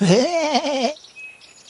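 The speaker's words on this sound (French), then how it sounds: "Bé, tu vois, le mouton." A sheep gives one wavering, nasal bleat lasting about a second, loud and close, followed by near silence.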